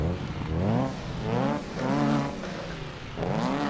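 A Mini's engine in Assetto Corsa revs in repeated bursts, four rising and falling swells that fade in and out, heard alone without voices.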